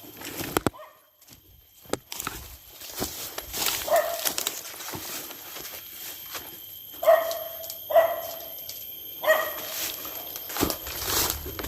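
Barking from a dog in a video game comes in a few separated bursts against ambient game noise, moderately near, with no talk over it.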